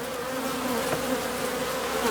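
A dense, steady buzz of defensive honey bees swarming around a queenless hive being given a new queen, close and unbroken for the whole stretch.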